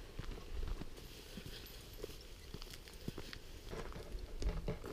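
Camargue horses walk along a countryside trail near Milhaud, France, their hooves clip-clopping in soft, irregular steps at a moderate distance over faint outdoor background noise.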